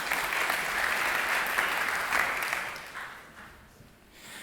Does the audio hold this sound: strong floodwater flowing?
no